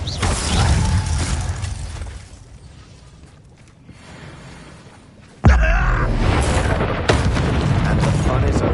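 Bombarda spell explosion in Hogwarts Legacy, a sudden loud blast that cuts in after a quieter stretch of mechanical rumbling and crackling, then rings on with a sustained roar and a second burst.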